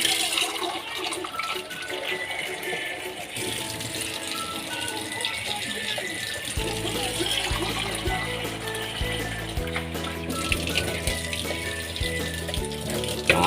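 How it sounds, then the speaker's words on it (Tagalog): Tap water runs and splashes into a cooking pot in a home kitchen, a continuous rushing pour with clattering and rattling of the pot, steady and close throughout. "lagyan natin siya ng tubig"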